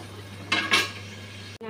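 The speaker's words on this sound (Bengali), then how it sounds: "এখন আবার একটু ঢাকা দিয়ে রাখবো।" A lid goes onto a cooking pot of pumpkin-stem chorchori with two quick metallic clinks and a soft scrape, close by over a low steady hum, then a sharp knock at the end.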